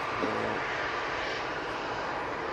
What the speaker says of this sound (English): Let's get this Ryanair before it touches down